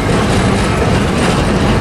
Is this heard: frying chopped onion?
no